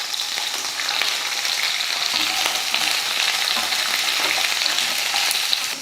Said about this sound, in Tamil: குடமிளகாயும் வெங்காயத்தையும் சேர்த்துடலாம்.